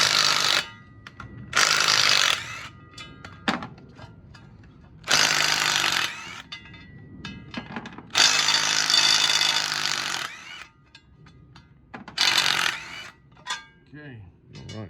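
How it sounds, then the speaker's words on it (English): A power tool works the flywheel off an LS engine in a shop, sounding as five loud, close bursts of buzzing rattle about two seconds each, separated by quieter pauses with clanks and some talk. "Flywheel's coming off now."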